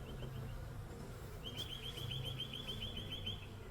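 Low, steady hum of honey bees in the brood box of an orange hive during a mid-spring inspection, a faint continuous buzz with a thin high whine running through the second half.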